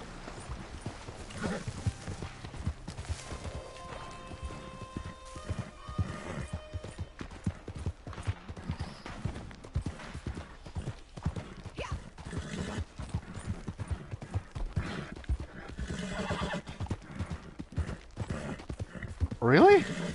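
Horse hooves clip-clop at a steady gallop with a neigh or whinny breaking through, set in the Red Dead video game, while players talk loosely over the sound throughout.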